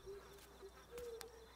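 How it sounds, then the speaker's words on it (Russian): Flies buzzing inside an abandoned house in the survival game Rust, a faint, thin drone with a few brief swells close by, heard alone without talk. "Мухи летают."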